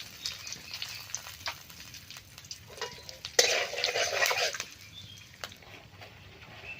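Garam masala with cumin and bay leaf frying in hot oil, stirred in a pan, with soft scraping and a steady low crackle that swells into a louder sizzle burst midway before settling back; no talking.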